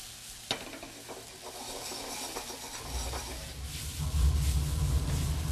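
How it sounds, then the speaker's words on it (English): Food sautéing in plain olive oil in a pan, a soft steady sizzle with a few faint utensil clicks early on, swelling louder in the second half. "we're going to saute that in some plain olive oil"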